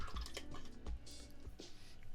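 A paintbrush is swished through a pot of water between coats while painting a miniature figure: faint small splashes and drips, close and quiet, with no talking.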